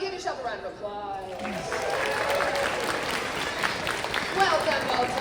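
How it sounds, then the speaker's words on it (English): Crowd at the Momocon cosplay convention bursts into loud sustained applause and cheering after an initial bit of talk, filling a large hall with continuous clapping. "Give yourself a round of applause"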